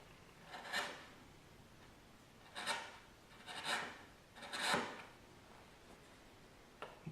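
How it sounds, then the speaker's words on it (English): Wood gouge paring the corners off a wooden cutting board, four short scraping strokes spaced a second or so apart, close and quiet against faint background hiss. "Real quick way of taking the corners off is with a gouge"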